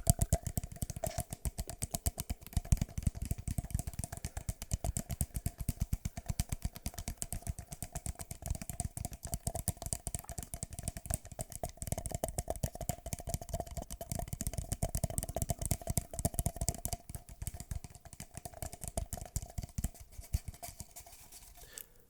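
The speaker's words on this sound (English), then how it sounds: "A fairly interesting sound for pens, wouldn't you say?" Rapid, dense clicking and tapping of small hard objects, like pens being handled and knocked together, continuous and close throughout.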